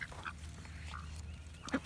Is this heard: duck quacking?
yes